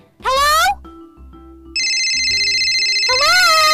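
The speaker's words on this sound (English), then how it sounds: "Seriously, my phone is ringing again?" A loud synthetic ringtone from a phone in a Minecraft movie, with a steady electronic tone that holds and repeats, mixed with rising and falling voiced sounds.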